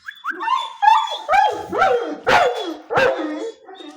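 A dog barks and yips repeatedly at close range, a series of sharp, excited barks with brief whimpering tones between them.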